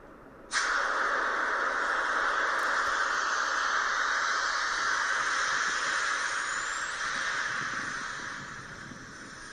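A Hyperloop pod's gas propulsion system fires from its nozzle, with a sudden onset of loud, sustained hissing rush that holds steady for several seconds before slowly tapering.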